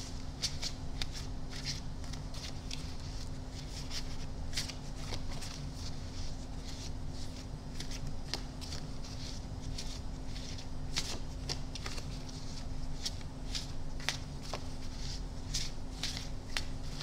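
Tarot reading cards being shuffled up close, a steady run of crisp riffling flicks and soft slaps continuing for the whole stretch over a low constant background hum, with no talking.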